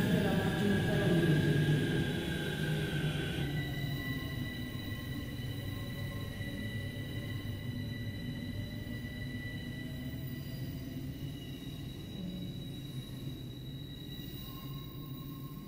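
A metro train in the Metro Mania simulation game passes with a steady low rumble and rail noise. Sustained tonal whines run over it, and the sound stays at an even level throughout.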